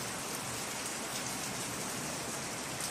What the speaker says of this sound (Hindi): शदीद किस्म की बरसात हो रही है